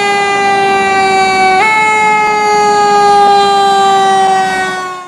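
A toy fire truck sounds a loud, steady electronic siren tone that holds for several seconds, then fades at the end.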